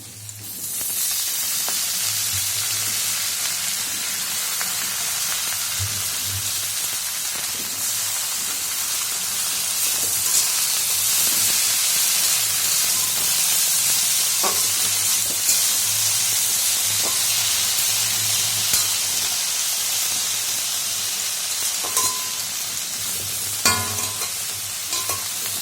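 Leafy greens and prawns sizzle and fry in a pan, a steady loud hiss with occasional stirring scrapes running continuously throughout.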